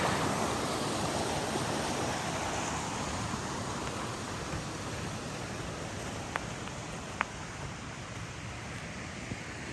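Rushing creek water flows steadily with a broad, even hiss and gurgle, close by and continuous, with a couple of faint clicks near the end.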